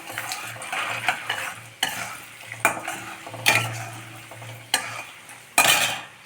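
Chana dal, urad dal and peanuts frying in hot oil, a sizzling hiss broken by repeated sharp scrapes and clinks of a spoon against the pan, close and irregular, no talk.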